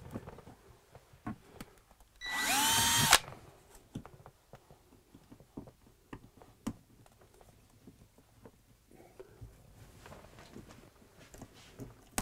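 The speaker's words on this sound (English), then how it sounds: "I'm going to need a little bit of a drill" A power drill whirs in one short, loud burst of about a second while fitting USB outlets in an RV, surrounded by scattered taps, clicks and handling noises.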